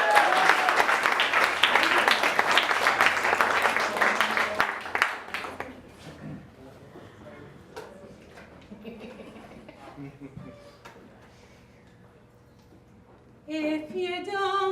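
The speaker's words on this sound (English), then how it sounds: "Please give us a round of applause." An audience at a bluegrass improvised musical show gives a loud round of applause that fades out over several seconds, followed by quiet and then a voice starting up.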